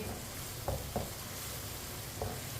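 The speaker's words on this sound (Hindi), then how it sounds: "प्याज और लहसुन को 3-4 मिनट के लिए पका लेते हैं। इसे ऐसे ही चम्मच चलाते हुए पकाना है।" Onion and garlic cook quietly in a pan, a faint, even sizzle with three soft taps of a spoon stirring them.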